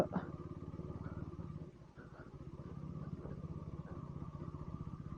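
A KTM Duke 390 motorcycle engine runs steadily while being ridden, a continuous, fairly loud low throb with a brief dip near the two-second mark, heard close with no talk over it.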